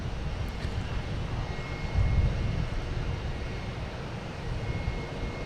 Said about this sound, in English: Next to come in is American Airlines, an A319 from Philadelphia.